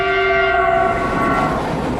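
A China-Europe Railway Express train runs along the tracks, its sustained horn tones ringing loudly over a dense, steady rumble of wheels and rail noise that fades slightly toward the end.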